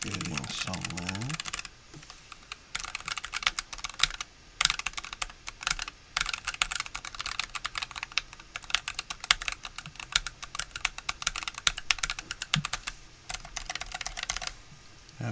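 Rapid, steady typing on a computer keyboard close by, dense clicking bursts with short breaks, loud and continuous, with a faint voice in the background.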